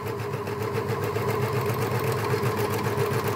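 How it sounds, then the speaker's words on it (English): A Janome overlocker runs steadily and loudly, its rapid rhythmic stitching chatter continuous as fabric feeds through, with no talk over it. "there's no way of quietening down an overlocker"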